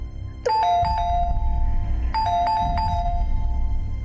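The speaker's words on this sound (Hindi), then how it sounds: "दरवाजे पर कोई है" A doorbell rings twice, each a bright two-tone chime with a lingering ring, the second press coming about a second and a half after the first, clear over a low background hum.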